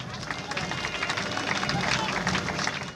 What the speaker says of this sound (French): j'aimerais que vous applaudissiez pour cette dame